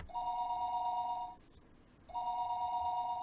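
A telephone ringback tone heard after dialing a short number in Higurashi: a steady electronic ring lasting over a second, a pause of silence, then a second ring starting, fairly loud and alone.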